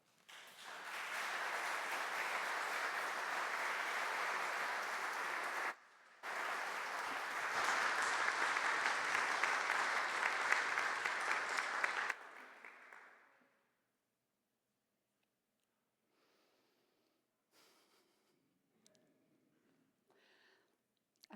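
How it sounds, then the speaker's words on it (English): Sustained audience applause at a community poetry gathering, loud and steady for about twelve seconds with a brief dip midway, then fading into near silence with a few faint scattered sounds. "that applause that happened was this outpouring of applause"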